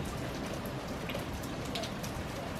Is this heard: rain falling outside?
yes